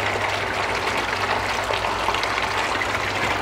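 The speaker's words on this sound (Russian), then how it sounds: "Вот вода выливается из этой трубы" Water gushes steadily from a pipe into a pond biofilter barrel filled with biomedia, a constant close splashing rush with a low hum underneath and no pauses.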